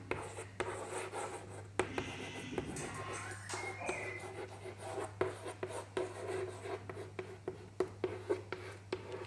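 Marker or chalk scratching across a classroom board as a chemistry formula for sodium hydroxide is written, a steady run of short rubbing strokes with a low hum underneath.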